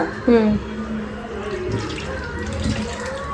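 Water poured over tamarind to wash it in a home kitchen while making sundakkai kuzhambu, a near splash at the start settling into a soft running trickle.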